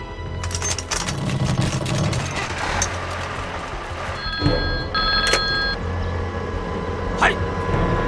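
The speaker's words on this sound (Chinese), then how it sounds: "中佐，山木少佐请你听电话。" A military field telephone at a Japanese army post in a war film rings with short electronic bursts amid background commotion, and voices are heard around it.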